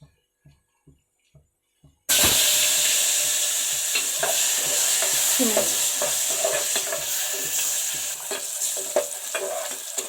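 Dried fish dropped into hot oil in a pan for an egg and dried-fish curry: a few quiet ticks, then a sudden loud burst of frying that settles into a steady, crackling sizzle with stirring clatter.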